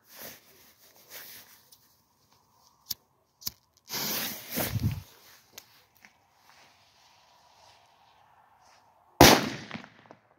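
Small Killer firecracker set off among a series of pyrotechnic bangs, with a few sharp cracks and one loud burst near the end separated by quiet gaps.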